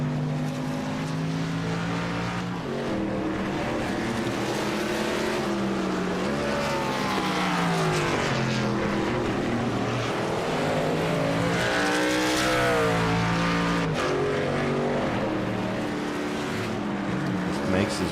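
Race truck engine at sustained high revs through a road-course chicane, loud and continuous with pitch swooping as it brakes and reaccelerates, joined by other trucks' engines in the background.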